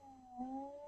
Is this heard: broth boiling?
no